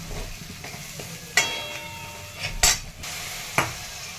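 Chilli powder and spices fry in hot oil with a steady low sizzle. A utensil stirs and scrapes the pan in a few sharp clinks, close and clear, with no voices.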